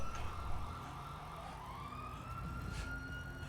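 A police siren in GTA 5 wails with a steady rising and falling tone over low engine rumble, holding at a moderate distance without closing in sharply, and no voices are heard.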